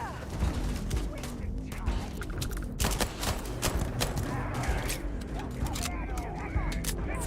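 Scattered gunfire effects in the space game Starfield, with several sharp cracks and clattering mechanical noises over a busy background while a person talks.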